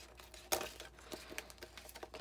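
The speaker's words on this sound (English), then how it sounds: "So we'll just use our scissors to help it out" Scissors snip and trim around a paper embellishment up close, with a sharp crisp cut at first followed by softer irregular paper rustles and small clicks, faint and without talk.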